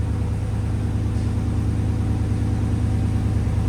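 A RAM 6.4L HEMI V8 fitted with a loud aftermarket exhaust sits idling, its steady low rumble droning evenly and up close with no one speaking.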